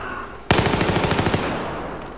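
Rapid automatic gunfire bursts out suddenly in the video game Battlefield 4, a loud rattling string of about a dozen shots lasting roughly a second before fading into echo.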